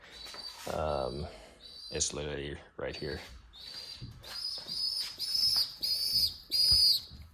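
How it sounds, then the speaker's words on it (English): A small bird chirps in repeated high bright bursts nearby, alternating with a person talking. "This bird is gonna keep chirping as long as it's hearing me talk."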